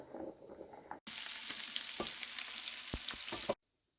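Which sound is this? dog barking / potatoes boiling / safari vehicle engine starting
potatoes boiling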